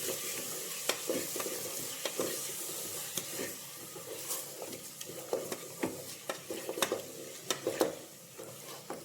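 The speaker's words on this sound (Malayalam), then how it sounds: "ഇനി ആ അരപ്പ് നന്നായിട്ടൊന്ന് ചേർക്കാം." Masala paste for mushroom biryani sizzles softly in a pan while a spoon stirs and scrapes it in repeated, uneven strokes, close and fairly quiet.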